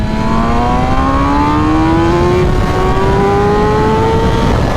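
A 2021 MV Agusta Rush motorcycle with a BT Moto ECU flash tune pulls hard in second gear, its loud engine note climbing smoothly and steadily in pitch from start to finish with no break.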